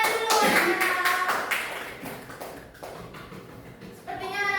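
Children clap their hands together in a classroom, a burst of sharp overlapping claps that fades out, followed by a teacher's voice speaking.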